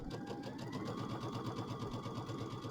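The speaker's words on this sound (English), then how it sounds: "I'm just going to hem these down so that we're ready for the back to be put on" A sewing machine hems fabric on its centre needle position, running close and steadily with a rapid, even stitching rhythm for the whole stretch.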